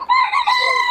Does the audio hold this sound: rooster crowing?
yes